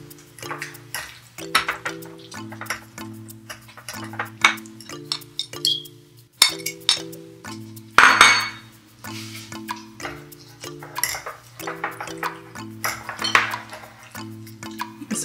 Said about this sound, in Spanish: vamos a mezclar el atún con la mayonesa